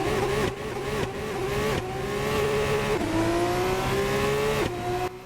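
An F2 2024 race car revving hard through a practice start in a racing game, the engine note climbing steadily with several quick upshifts, loud and close with no talk over it.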